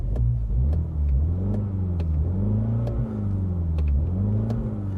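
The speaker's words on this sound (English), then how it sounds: "you can hear when this vehicle starts up, it constantly reminds you that this is the Fun model" A 2021 Mini Cooper JCW GP hot hatch runs with a loud, steady engine note, rising and falling in gentle rev swells across five seconds with a deep rumble throughout, no talk.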